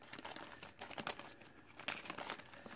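Plastic packaging bag of beauty-box makeup crinkling and rustling as it is handled and cut open with scissors, close and faint, a busy irregular run of crackles with a few sharper snips.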